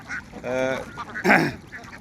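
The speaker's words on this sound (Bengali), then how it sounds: "দেখেন হাঁস কত সুন্দর করে শামুকগুলো খাচ্ছে" Ducks on a duck farm honk and quack loudly and close by while feeding on snails, with a few short harsh calls in quick succession.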